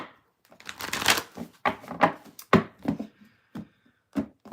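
A deck of tarot cards is shuffled by hand at close range, giving a series of quick riffling bursts and soft slaps separated by short pauses, with no talking.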